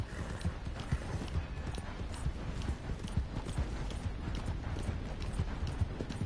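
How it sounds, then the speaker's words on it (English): Hooves of a horse galloping hard in Red Dead Redemption 2, a fast repeated clip-clop rhythm kept up steadily throughout at moderate volume, with no talk. "I'm running this horse quite hard right now"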